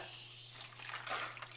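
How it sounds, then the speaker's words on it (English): Beef broth poured into a puree bag for a crockpot stew, a soft splashing trickle that swells in the second half, faint and close, over a steady low electrical hum. "I'm just going to pour the broth into the puree bag"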